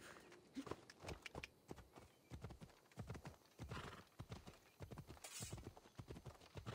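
Horse hooves clip-clopping at a steady trot in Assassin's Creed Odyssey, a quick continuous run of sharp close hoofbeats with a brief whinny in the background.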